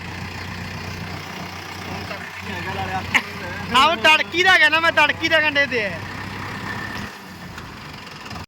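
A farm tractor engine idles with a steady low drone throughout, while someone talks over it and a brief high-pitched whistling or chirping passage cuts across the middle.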